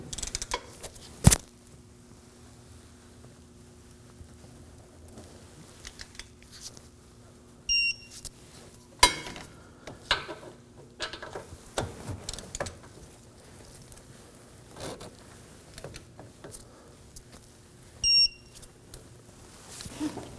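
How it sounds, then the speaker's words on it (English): Lug bolts on the rear hub of a 2014-2020 Acura MDX are torqued to 65 foot-pounds, heard as scattered quiet clicks and mechanical rattles with a few faint beeps, sparse and fairly distant. "now we're ready to torque down the bolts to 65 foot-pounds"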